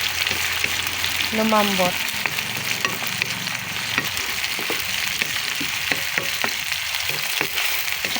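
Tomatoes sauté in a hot pan for fermented shrimp (ginisang alamang), giving a steady dense sizzle with occasional utensil scrapes while someone speaks briefly over it.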